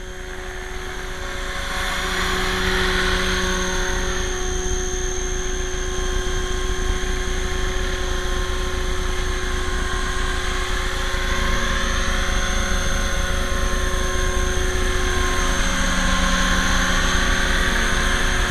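A radio-controlled 500-size helicopter flies outdoors, its rotor and motor giving a loud, steady whine and buzz with a sustained tonal hum that holds nearly constant across the whole stretch, rising in at the start.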